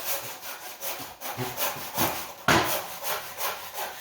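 A hand saw cuts through a wooden cross section about three quarters of an inch thick, giving loud, rhythmic back-and-forth rasping strokes, close and alone, with a sharp stroke midway.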